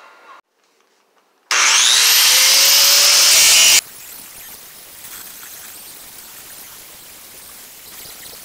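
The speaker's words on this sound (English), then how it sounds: "I got that piece all ground down" Angle grinder grinding down a steel weld on a 1958 Plymouth speaker tray rust repair: one loud, steady, high whine lasting about two seconds, then it cuts off into quiet shop noise.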